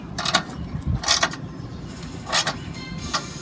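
Screws are tightened on the heating element of a Weber electric grill, giving a few scattered clicks and faint mechanical scrapes in short bursts, close by and fairly quiet, with no speech.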